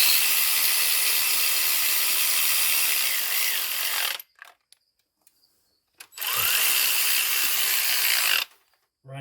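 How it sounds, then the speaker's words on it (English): Rapid ratcheting clicks from a hand ratchet run down on bolts during a Chevrolet Tahoe purge valve replacement, close and loud in two long bursts split by a short quiet gap, no voices. "I always take a hand ratchet because I know the feeling of where they need to be at"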